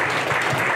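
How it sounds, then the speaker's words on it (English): Audience applause at a community panel discussion, a brief steady wash of many hands clapping, fairly loud and close. "you can feel free to clap"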